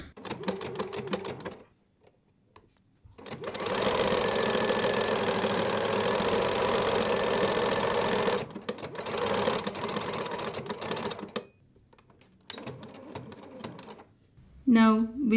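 A sewing machine fitted with a flower stitch foot stitches a flower pattern in two long, steady runs of rapid mechanical whirring, close and loud, separated by brief pauses and quieter handling noises.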